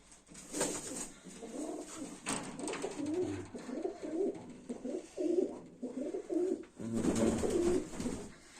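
Baku fighting pigeons coo in a loft, a steady series of soft, throaty coos running almost throughout, fairly close and moderately loud, with a few louder bursts toward the end.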